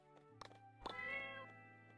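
A cat meows in My Time at Portia, a couple of short close mews over steady background music, with no talk.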